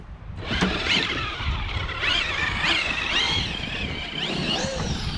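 A Traxxas X-Maxx RC truck with a belt drive and stock motor runs outdoors in the cold, its electric motor whining up and down in pitch through repeated accelerations, close and steady with light wind noise.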